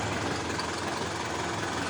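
Isuzu 4HG1 diesel engine in a 4x4 mini dump truck running at idle, a steady low rumble heard close with no talk.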